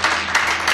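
Church congregation clapping hands together, a dense burst of applause with a few swells in quick succession.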